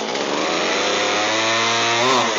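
A secondhand McCulloch chainsaw runs steadily at high revs after a carburetor adjustment, a loud, close, continuous buzzing engine drone with nothing else over it.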